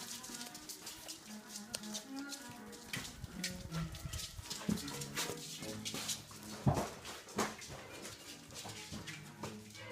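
Five-week-old British Labrador puppies whimpering and yapping close by, a busy overlapping chorus of small cries and squeaks with shuffling paws, continuous throughout.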